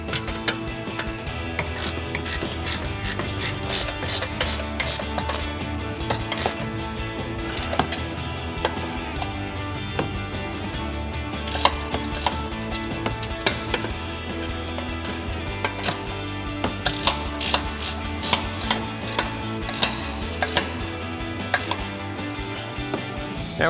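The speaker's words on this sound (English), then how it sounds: "fully tighten down our upper strut mounting nuts. So again, with our 17mm ratchet wrench" A 17mm ratchet wrench tightening the upper strut mounting nuts on an F-150 front coil-over shock gives rapid, bright clicking in steady bursts over a low background hum.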